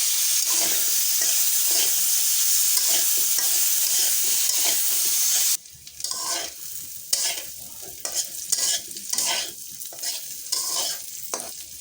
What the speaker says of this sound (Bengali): ফুলকপি আর আলুগুলো ভাজা হয়ে গেছে, একেবারে ভাজা